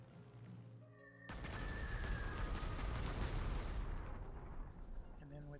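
A bombing attack in the Panzer Corps 2 video game sets off a sudden heavy blast followed by a long rumbling, crackling barrage of explosions that slowly fades, after a quieter lead-in.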